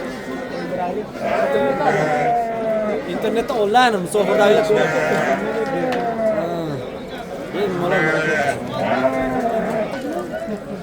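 Sheep bleat repeatedly at the Sariosiyo Thursday livestock bazaar in Uzbekistan, their calls mixing with a busy crowd's chatter while people talk close by throughout.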